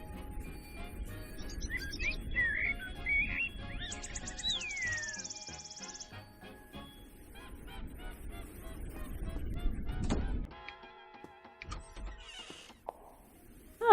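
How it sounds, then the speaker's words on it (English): Bird song in the video game Fausts Alptraum: a few thin chirping, warbling calls rise over a low ambient bed, followed by clattering and rattling game noises, fairly loud, with no talking. "There was bird song, but no sign of a bird."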